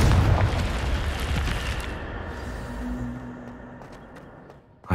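A Confringo fire spell explodes in the Hogwarts Legacy video game as a deep, loud boom that rolls into a sustained rumble and fades slowly over several seconds.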